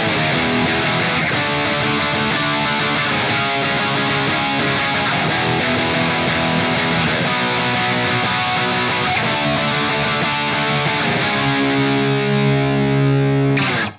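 Distorted electric guitar strumming the chords to a song in a very simple form, a dense, steady wash of sustained overdriven chords with effects, close and loud, ending on a final ringing chord before cutting off; no talking.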